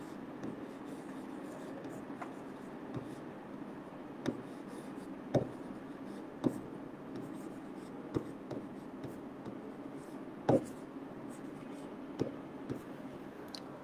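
A pen writes an exam answer on paper, with faint, steady scratching and a handful of soft taps spaced through the clip over a quiet room hum.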